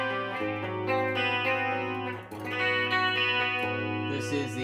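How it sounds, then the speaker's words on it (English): A Les Paul Custom electric guitar plays a short run of clean, compressed chords and notes through a Gallien Krueger 2000 CPL preamp with chorus and reverb, sustained and steady. "Some reverb."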